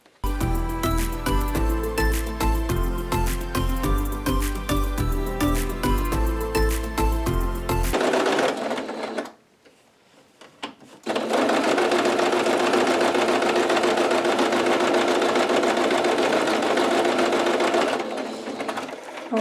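A sewing machine stitches a simple vintage-style apron, its fast rhythmic mechanical chatter running loud and close, stopping briefly midway, then resuming in a long steady run.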